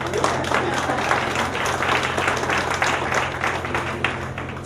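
An audience claps steadily for several seconds at a college awards ceremony, a dense, even patter of applause filling a large room.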